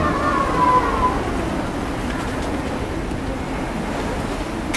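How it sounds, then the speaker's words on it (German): Wind and waves rush steadily around a sailboat on the Baltic Sea in a force 7 blow, a constant broad roar with a faint whine early on. "Die 8 würde ich nur kriegen, wenn wir keine Wellen hätten."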